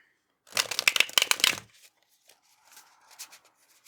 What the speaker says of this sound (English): I need to shuffle your tarot cards in one moment